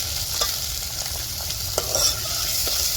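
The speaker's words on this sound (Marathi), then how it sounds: "आणि कांदा ना आता लाल होत तर मी परतून घेणार आहे" Onions being sautéed in a pan for egg biryani, a continuous hiss with soft stirring scrapes and occasional sharp clicks close by.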